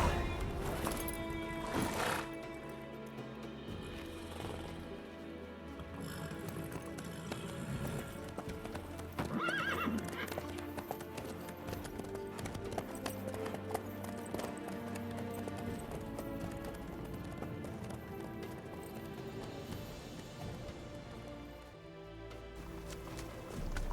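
Horse hooves clip-clop steadily in the video game The Witcher 3, a continuous rhythmic trot with an occasional whinny, under music and faint background voices.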